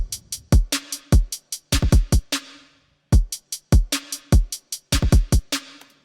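Electronic drum loop with extra single-shot kick drum hits layered in from an EXS24 sampler, punchy low kicks and crisp hats in a steady pattern that stops briefly mid-way, then resumes; alone, no voices.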